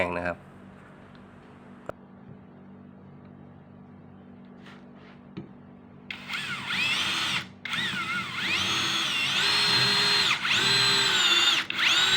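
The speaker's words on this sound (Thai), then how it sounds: "เจาะไม้ด้วยสกูยาว 3 นิ้ว ไม้ที่เจาะเป็นไม้เนื้อแข็งนะครับ" A CANLIDI brushless cordless drill drives a 3-inch screw into hardwood, a loud rising whine with shifting pitch that runs from about the midpoint to the end after a quieter stretch with faint background noise.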